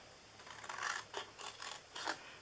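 Scissors snip through a paper box in several short, crisp bursts, close and fairly quiet, each cut a brief rasping crunch separated by small pauses.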